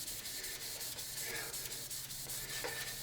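A cloth or pad is rubbed back and forth over a wooden pen blank, spreading a thin CA glue finish in soft, quiet, rhythmic strokes that sound close and faint.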